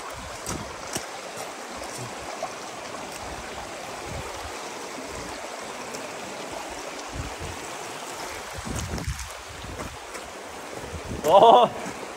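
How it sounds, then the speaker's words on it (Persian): A natural mountain waterfall fed by a spring near Ortakand, Iran, gives a steady, moderate rushing wash of water, with a brief louder splash near the end. "آبشار در واقع چشمه طبیعی از دل کوه"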